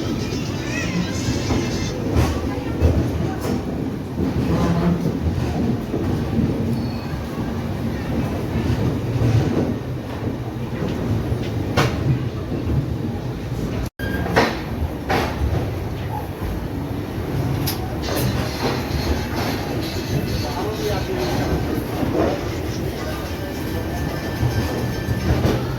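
The Chhapra Durg Express passes alongside as a steady rumble and clatter of rail cars, heard from aboard another moving train, continuous with faint talk.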